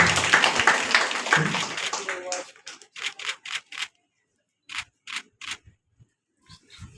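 An audience in a university hall welcoming guests at a meeting claps in a dense burst of applause that thins into a few scattered, separate claps before fading into quiet.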